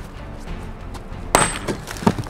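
A wall in a video game bursts apart in one sudden crash of breaking, splintering debris, with a second smaller crack a moment later, following quiet background sound.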